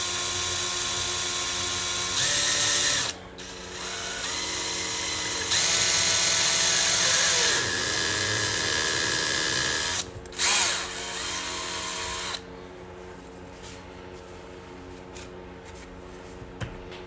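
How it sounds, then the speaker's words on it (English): A power drill bores out a lock, whining loudly in sustained bursts with brief stops and changes in pitch before dropping to a quieter hum of machinery. "I think we're gonna have to drill it out completely"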